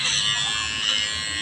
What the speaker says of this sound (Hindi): नीचे के सेक्शन को ट्रिमर से ट्रिम करके कट करते ही चले जा रही हूँ।